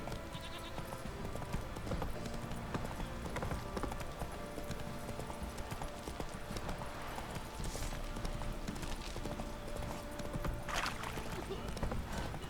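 Roach the horse clip-clopping along in The Witcher 3, a steady rhythmic patter of hooves that carries on throughout under faint voices and a game ambience.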